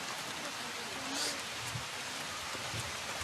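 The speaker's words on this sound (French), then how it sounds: "tu sens pas la pluie qui tombe" Steady rain falls outdoors in French Guiana, a constant even hiss of drops with no breaks, faint and soft throughout.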